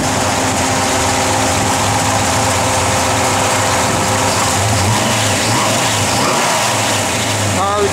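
A 1962 Plymouth Fury V8 engine runs loudly and close, a steady heavy rumble with a swelling rev partway through and then settling back, with faint voices talking beneath it.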